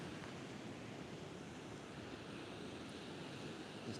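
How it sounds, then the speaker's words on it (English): Gentle ocean surf washes steadily onto a beach at night, a continuous broadband wash with light wind noise on the microphone and no talking. "this sound I'm hearing right now of the ocean just gently crashing is quite"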